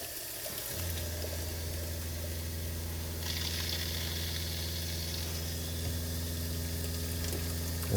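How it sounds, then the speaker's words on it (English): Hot water running from the sink faucet of a Winnebago Travato RV, a steady hiss of flow over a constant low pump hum that starts just under a second in, with the spray brightening partway through. "Okay, then we'll run the hot water."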